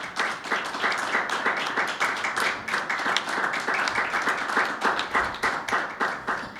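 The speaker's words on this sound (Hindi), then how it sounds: "यीशु मसीह के लिए तालियां बजाएं।" A church congregation at a Sunday meeting claps in a steady, rhythmic unison beat throughout, loud and close, with no speech over it.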